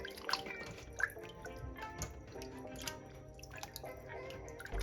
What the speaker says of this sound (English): this water has vinegar in it, so I'm going to just rinse these off, and then they'll be ready to cook